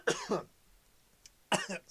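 Two short coughs, close and fairly quiet, separated by a second of near silence.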